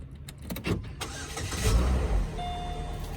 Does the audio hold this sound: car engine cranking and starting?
yes